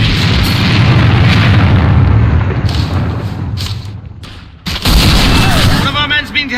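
Grenade blasts and gunfire in the online shooter AVA during a demolition match: a heavy booming rumble dies away, then a sharp burst of explosive fire hits near the end, loud and close, with radio voice lines layered in.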